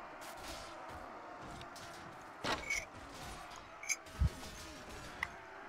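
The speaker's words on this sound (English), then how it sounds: "Sorry about the clanking there. I have a teaspoon in my teacup again." A metal teaspoon clinks against a ceramic teacup in a few short, sharp taps, faint and sporadic over the steady background of a running computer game.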